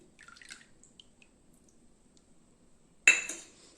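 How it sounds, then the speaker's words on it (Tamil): Tamarind water poured into a sweetened traditional drink, with a few light drips and clinks at first, then a sudden splashing pour near the end that starts loud and tapers off. "அந்த புளியை அப்படியே ஊற்றிக்கலாங்க"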